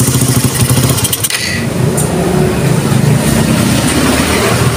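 A Suzuki Raider 150 motorcycle engine sputters and catches after a push start, then keeps running with a loud, rough, steady rumble.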